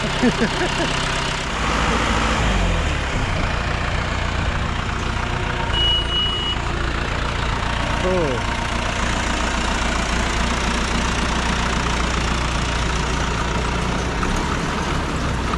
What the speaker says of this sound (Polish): to bierzemy skuterka.